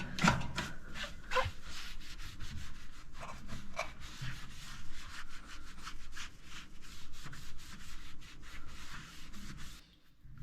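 A toaster oven being scrubbed with a wet sponge and water: steady, close rubbing and scraping strokes in a quick, uneven rhythm that stop near the end.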